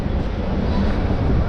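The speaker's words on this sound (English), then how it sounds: "It's windy," Wind buffets the microphone on a city street in Johannesburg, a steady low rushing roar with a faint background hum throughout.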